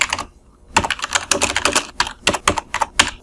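Rapid typing on a computer keyboard while entering structured-text code for a function block, with crisp, irregular key clicks in close, steady bursts and short pauses, heard on its own.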